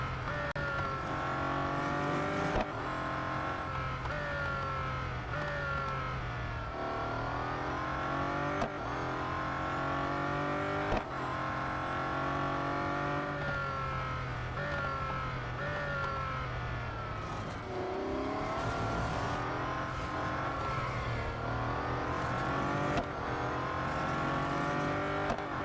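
Race car engines in the mobile racing game Real Racing 3 drone steadily through a lap, several cars' revving tones rising and shifting gears continuously at a loud, constant level with no talking.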